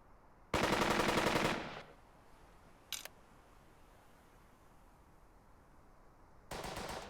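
Bursts of rifle and machine-gun fire in the World War II game Burden of Command: a loud rapid burst, a short later shot, and another burst at the end, separated by quiet.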